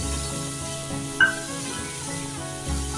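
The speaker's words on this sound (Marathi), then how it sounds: "आता हे छान परतवून घेऊया" Crushed ginger and garlic sautéing in a pan for chilli chicken make a steady close sizzle and hiss, with a brief scrape of stirring partway through, and no one talking.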